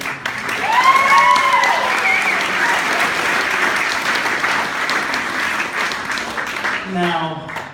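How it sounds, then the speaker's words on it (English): A wedding reception crowd claps steadily and warmly, a full room of applause with a whistle and scattered cheers near the start before it fades toward a voice at the end. "How about another round of applause?"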